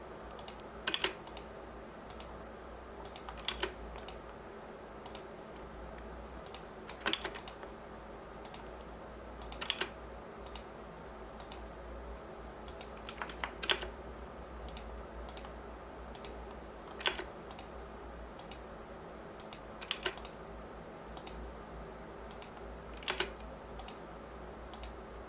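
A computer mouse clicks while dimensions are drawn in ZWCAD drafting software: sharp, quiet single clicks repeat at irregular intervals over a steady low background hum, with no talking.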